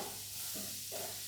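Garlic paste stirred in a hot pan for lasagna, a short soft sizzle with a couple of scraping stirs, close by and fairly quiet.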